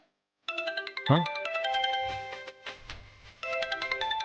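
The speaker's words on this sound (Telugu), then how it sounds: "అన్నయ్య కృష్ణ ఫోన్ చేస్తున్నాడు." A phone ringtone plays a bright electronic melody, loud and close, with a brief pause before the tune starts again.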